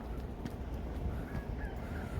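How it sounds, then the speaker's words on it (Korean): A rooster crows in the pre-dawn dark on a foggy morning walk, a faint, distant drawn-out call over a constant low rumble of ambient noise. "새벽닭이 운다."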